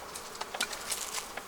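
Honeybees buzzing around a hive during an autumn weight check, several faint, brief buzzes as bees fly past the microphone one after another.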